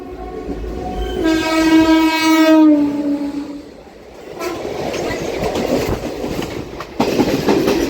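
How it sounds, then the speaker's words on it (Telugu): A loud train horn sounds, then the Palasa–Visakhapatnam passenger train rumbles past close by with rhythmic clattering wheels. "అటు సైడ్ ట్రైన్ వస్తుంది."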